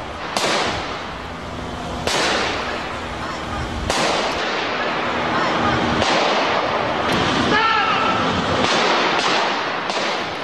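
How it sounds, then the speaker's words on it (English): Several sharp gunshots ring out outdoors by a courthouse, spaced a couple of seconds apart, each a loud crack fading into street ambience with crowd commotion and voices throughout. "the shooting begins"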